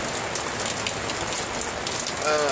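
Heavy rain falls steadily on nearby surfaces, a dense unbroken hiss with scattered drops. A faint tonal sweep rises near the end.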